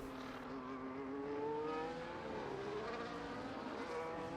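A race car engine in a sim racing game, heard onboard the Alpine at the Mexico circuit: one loud, steady, close engine note that climbs in pitch through the gears, with no talking.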